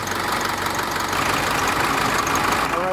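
A diesel engine idles steadily at operating temperature during a basic emissions test, a loud, close, continuous rumble with a fast, even knock and no talk.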